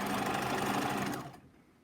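A sewing machine stitching a hem facing onto a coat runs in a fast, steady mechanical whir for over a second, then stops and leaves a quiet room.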